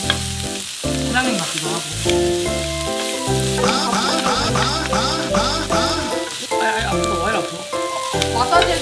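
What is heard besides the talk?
frying leftover rice on pork belly grill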